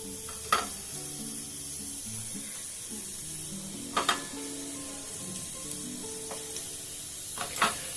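Atta and jaggery kalojam dough balls frying in hot oil, a steady close sizzle with faint metallic clinks and stirring scrapes now and then.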